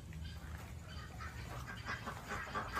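Ducks quack in a rapid, scattered chorus among farm birds, faint and somewhat distant in an outdoor yard, continuing steadily throughout.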